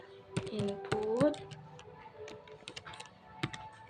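Fingers tap out a formula on a computer keyboard, sharp irregular clicks near and fairly quiet, with a voice speaking briefly over the keystrokes.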